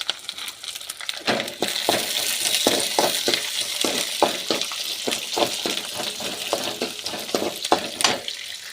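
Small shallots fry in a hot pan with a constant bright sizzle, broken by a quick series of sharp clicks and scrapes as a utensil stirs against the pan.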